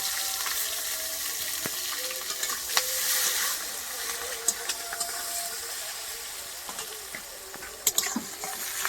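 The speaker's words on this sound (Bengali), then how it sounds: "কড়াইতে তেল ছিল, আর একটু দিলাম। এবারে দেবো পেঁয়াজ কুচি" Chopped onions crackle and sizzle in hot oil in a wok during village-style cooking, a quiet, continuous fry with scattered sharp pops and occasional stirring scrapes.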